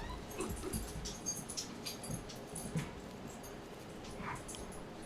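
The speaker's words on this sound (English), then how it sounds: "a 7-pound Corgi fighting a 120-pound Great Pyrenees is the funniest thing I've ever seen in my life" A small seven-pound Corgi scuffles with a 120-pound Great Pyrenees indoors, with faint whimpers, yips and rustling bursts scattered through low steady background noise.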